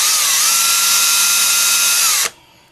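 A power drill bores out a stuck screw, starting slow: a loud, steady whine that dips slightly early on, holds level for about two seconds, then cuts off abruptly into quiet.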